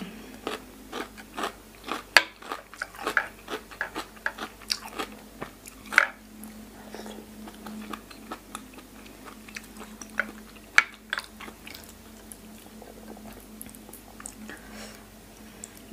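Fresh raw salmon slices being eaten, steady close-up wet chewing and soft biting with occasional sharper smacks, continuing for the whole stretch without talk.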